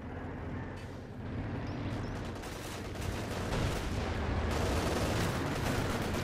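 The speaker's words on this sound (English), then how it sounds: "Panther engages, machine gun, main gun firing there." In the Company of Heroes 2 video game, a Panther tank fires its machine gun and main gun amid a dense battle din of continuous gunfire and blasts, with no clear gaps.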